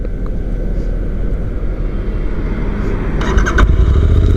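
A Royal Enfield Interceptor 650 Mark 2 motorcycle is started after sitting unused for several days. A low rumble and mechanical noise lead to a louder burst near the end as the engine catches. No one speaks.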